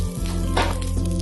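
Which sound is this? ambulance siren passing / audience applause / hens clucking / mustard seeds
mustard seeds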